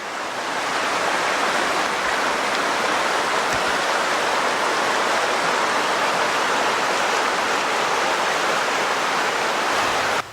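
A waterfall beside a river near the Lehigh Tannery ruins roars in a steady, dense rush of falling water, loud and unbroken for the whole stretch with no voices.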